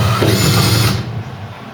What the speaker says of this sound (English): we'll take that Tech screw out now and re-drill through there.